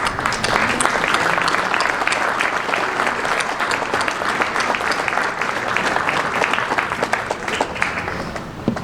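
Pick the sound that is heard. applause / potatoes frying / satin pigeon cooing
applause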